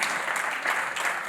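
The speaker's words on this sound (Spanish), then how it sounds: "Vamos a brindarles un aplauso de inmediato." Steady, dense applause from an audience at an education conference, continuous and even throughout with no breaks.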